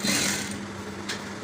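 Sewing machine running a short burst while stitching a waistcoat lining, a rapid steady mechanical whir with a brief high click near the end, close and fairly loud.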